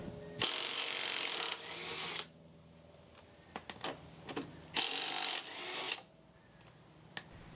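A Ryobi 18V P261 three-speed 1/2-inch impact wrench on speed 3 loosens lug nuts in two loud, close bursts of hammering, each about two seconds, with small clanks and handling noises between them.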